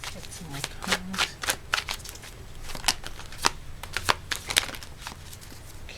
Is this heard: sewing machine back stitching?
no